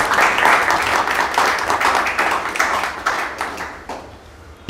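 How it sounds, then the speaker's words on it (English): Round of applause from the audience at a music lecture talk, dense clapping that starts strong, thins out gradually and ends with a few scattered final claps. "I think I want to give you a round of applause."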